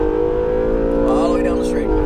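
Acura NSX engine on a Las Vegas track, a loud steady drone with layered harmonics rising slightly in pitch as the throttle is squeezed, close and continuous; someone talks over it.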